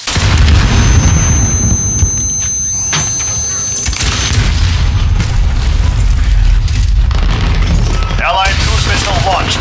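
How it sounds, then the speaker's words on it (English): Loud, heavy booms and rumbling blasts from cruise missile strikes in a Call of Duty: Modern Warfare 2019 multiplayer match keep up a constant roar of explosions, with radio announcer speech over the top. "Allied cruise missile launched."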